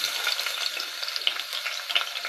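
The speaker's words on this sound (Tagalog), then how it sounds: "saute the garlic, the onion, and the sili" Garlic, onion and chili sizzle steadily in hot oil while sauteing for squid adobo, a continuous dense crackle with small pops, close and even, no voices.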